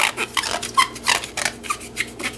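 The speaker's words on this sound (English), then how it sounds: "that's the sound of a degreased piece of plastic" Fingers rub and squeak on a degreased plastic model part, giving a quick series of short, close, dry squeaks in an irregular rhythm, with no talking.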